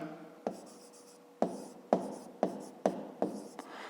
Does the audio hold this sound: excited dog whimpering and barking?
no